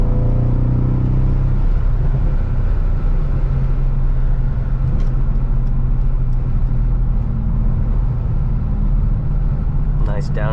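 A 500hp V8 car cruising on errands, its loud engine droning steadily with harmonic bands that shift and drop partway through as it downshifts, continuous rumble throughout with a brief higher sound near the end.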